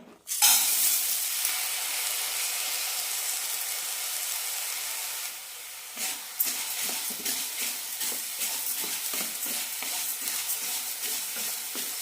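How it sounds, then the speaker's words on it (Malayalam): Green gram dry-roasting in a hot pan gives a steady dry sizzle and hiss, with a brief drop as the lentils settle, followed by repeated scraping stirs and rattling grains. "പാൻ ചൂടായിട്ടുണ്ട് ചെറുപയർ ഇടാം"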